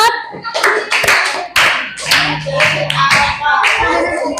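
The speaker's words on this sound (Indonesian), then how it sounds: "Tepuk tangan untuk kelompok 4" A small group claps with sharp, uneven hand claps, close and loud, while voices talk over it.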